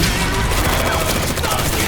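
Dense gunfire in an American-set anime fills the scene as a loud, continuous fusillade of overlapping shots. It is heard alone and close, with no talk over it.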